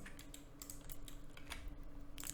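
Keys pressed on a computer keyboard while working in Blender: a run of light, scattered clicks and taps over a faint steady hum, with no talking.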